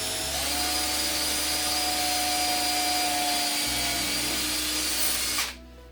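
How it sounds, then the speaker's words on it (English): A power drill boring holes in an IKEA kitchen drawer front for a handle, a loud, steady close-up whine running continuously for about five seconds before cutting off abruptly. "I'm going to just start drilling on that guy"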